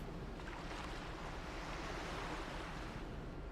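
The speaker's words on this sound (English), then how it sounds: "There's a wave coming in, small wave." Ocean surf rolling onto the shore in the video game Mass Effect, a steady, full wash of crashing waves throughout, with no voices over it.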